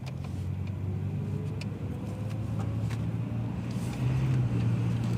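An old Volvo 240 car pulls out of a driveway with a low, steady engine rumble that rises a little as it drives off, heard nearby with no talking.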